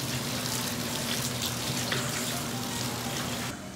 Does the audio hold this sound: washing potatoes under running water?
yes